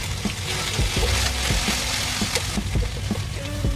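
Ginger garlic paste frying in a pan as masala pav is cooked, a steady close sizzle with soft scraping stirs and light clinks scattered throughout, no voices.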